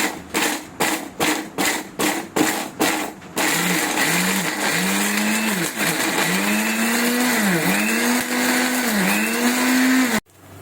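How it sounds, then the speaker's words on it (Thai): A kitchen blender grinds curry seasoning paste for a Thai beef kaeng om: a string of short pulsed bursts, then one loud continuous whir whose pitch rises and dips as the blades work through the mixture, cutting off abruptly at the end. "ปั่นเครื่องปรุงนะครับ"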